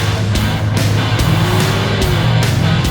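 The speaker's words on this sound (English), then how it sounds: "Let's brake boost this thing and let's see where we can get to 60." A 2023 Ford Maverick Tremor with a turbo engine launches hard from a brake boost, a loud, close engine roar with rhythmic upshift gaps as it accelerates.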